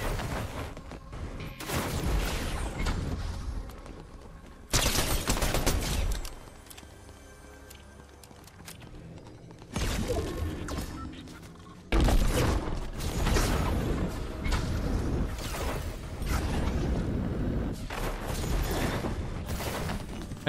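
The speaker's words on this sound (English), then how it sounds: "I think someone just shot a firework at him." Several loud bursts of whooshing, crackling blasts go off in clusters with quieter gaps between them, fireworks launched in the video game Fortnite.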